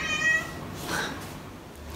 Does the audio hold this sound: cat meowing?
yes